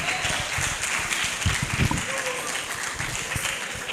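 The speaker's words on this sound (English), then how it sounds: "Please, let's continue to give him a round of applause as he comes forward." Applause from an audience at a journalism ethics event as a speaker comes forward, moderate, steady clapping that continues throughout.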